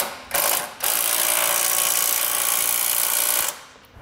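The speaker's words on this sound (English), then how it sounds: "So I'm gonna use a 19 millimeter on the head of the bolt and a wrench to hold the nut and snug it down." Ratcheting socket wrench clicks rapidly and loudly as a 19 mm bolt is snugged down on a Roadmaster crossbar-style base plate fitted to a 2017 Subaru, one brief burst, then a steady ratcheting run lasting a few seconds.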